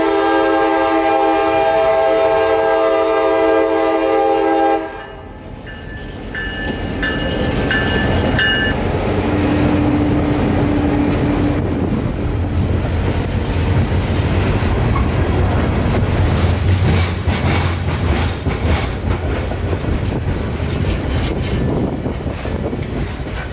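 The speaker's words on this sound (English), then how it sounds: "With a tiny train of covered hoppers, this train is now taking what is known as the new connection" A short freight train of covered hoppers rumbles past in Florida with a loud horn blast at the start, then steady rolling wheel noise and clanking cars continuing throughout.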